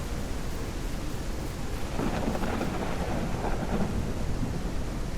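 Steady rain pours in Ranch Simulator, with a low rumble of thunder rolling in partway through and swelling under the hiss; no talk.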